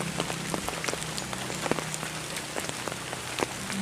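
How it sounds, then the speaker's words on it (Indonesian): Steady rain falls outside an abandoned house, an even close hiss of drops striking surfaces with scattered sharper individual drips, no voices. "Di sini hujan tuh."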